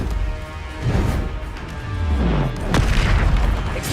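Confringo fire spell blasts in Hogwarts Legacy, a close, heavy boom with a low rumbling tail, followed by a second burst and crackling debris amid ongoing combat noise.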